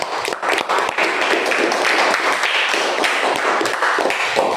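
A small classroom group claps for a speaker during a teacher-training session, close, uneven handclaps with distinct individual slaps and taps running throughout.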